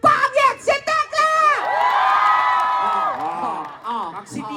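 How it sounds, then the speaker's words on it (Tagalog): A festival crowd in Masinloc claps and shouts together, a loud sustained roar of cheering and whoops with scattered applause, a voice calling out briefly at the start. "Magpalakpakan may kasamang sigawan!"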